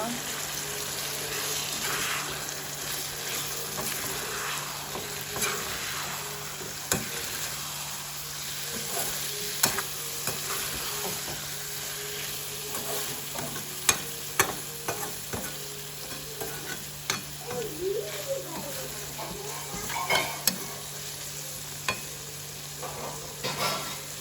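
Onions for Sri Lankan seeni sambol fry in a pan under a steady sizzle while a spoon stirs them, scraping and clacking at irregular intervals throughout, with brief faint voices.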